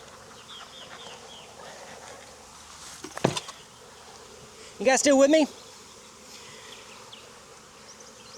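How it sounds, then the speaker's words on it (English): Honey bees buzz at an opened beehive in Jacksonville, Florida: a steady, close insect drone that swells into a loud, dense burst partway through, with a brief spoken line over it. "This was the one that kind of buzzed the most when I opened it."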